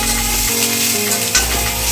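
Small prawns, aubergine and other vegetables frying together in a pan for a mustard prawn curry, with a loud, close, steady sizzle and a brief stirring scrape.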